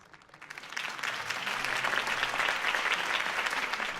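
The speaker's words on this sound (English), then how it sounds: "could have heard that applause" Crowd applause after a campaign speech in Batman The Telltale Series, clapping swelling from quiet to a full, steady roar of many hands over a few seconds.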